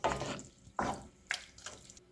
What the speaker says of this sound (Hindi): पानी डाल के इसको मिक्स करेंगे।